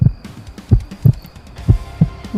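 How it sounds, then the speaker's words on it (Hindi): A close heartbeat effect for a Hindi horror audio story gives soft low double thumps at a steady pace, alone, with no voices. "इतना कि उसे उसकी धड़कन तक सुनाई देने लगी"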